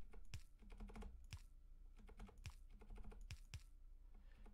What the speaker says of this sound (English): You can probably hear my mechanical keyboard tapping away.